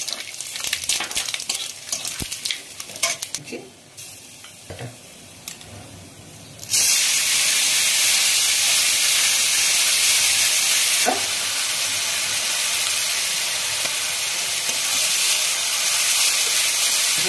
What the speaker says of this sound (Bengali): শুকনো লঙ্কা 3টা দিয়ে দিলাম, একটু তেজপাতা আর